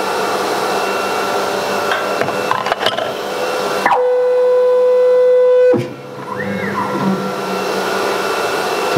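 S series CNC router running with an Airtech dust hood, a loud steady whine and roar with knocks and a sustained tone midway, then the pitch drops and a softer hum continues, no talking.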